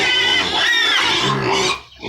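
Farm pigs grunt and squeal continuously and loudly up close, a dense stretch of overlapping animal noise that dips briefly near the end.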